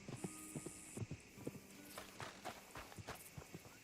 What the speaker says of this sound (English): Okay, I hear my horse running.